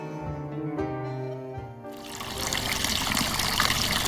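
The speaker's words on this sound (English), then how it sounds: "This mountain spring was one of the few sources of water around Adjuntos" A mountain spring near Adjuntas, Puerto Rico, trickles and splashes steadily. A tonal hum sits under it at first, and the water grows broader and louder about halfway through.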